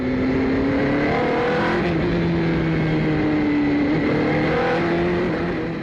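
Race cars speed around a hilly track with a partly blind left-hander, their engines a loud, steady roar that holds and shifts in pitch as they pass, with no talk.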